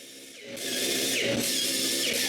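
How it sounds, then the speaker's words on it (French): A powered screwdriver drives screws into a workpiece, one of fifteen holding aluminium pieces down for cutting. After a quiet start, it sets in as a loud, steady mechanical whir that runs without a break to the end. "tout ce qu'il reste à faire, c'est de visser ces 15 vis"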